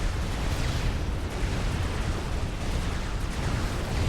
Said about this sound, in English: Down goes a T2 PGen